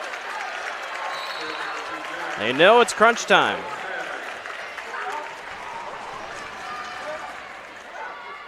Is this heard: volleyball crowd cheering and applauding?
yes